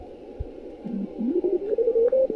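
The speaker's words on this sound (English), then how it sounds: "And now let's turn on the radio." Hum and static from an amateur radio receiver during a park field operation as the tuning drifts, a wavering tone rising in pitch through the noise, fairly loud and steady.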